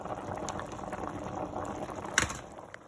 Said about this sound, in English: we're going to continue letting this boil